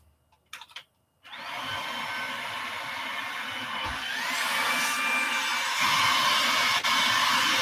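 A vacuum cleaner with its wand attached starts up after a few soft knocks and runs with a loud, steady whine and airflow roar that rises slightly in pitch, with brief bumps as the wand moves.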